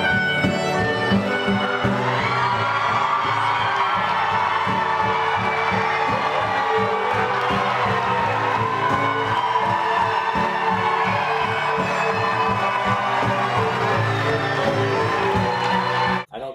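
Festival crowd at a Celtic music event cheering and roaring steadily and loudly throughout, a dense wash of many voices blended with music, ending abruptly.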